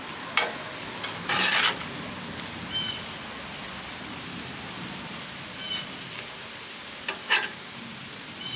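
Chicken, peppers, onions and potatoes sizzle in a pan on a stovetop, a steady low frying hiss broken by a few louder bursts of crackle and stirring scrapes, close and alone without talk.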